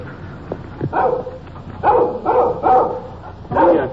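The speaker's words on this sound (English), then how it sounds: "Little dog following us, keeping at a safe distance. He's making an awful lot of noise for a little fella." A small dog barks repeatedly at a steady pace, several sharp yaps and yips at close to medium distance, loud and clear and alone, from a 1954 night police patrol.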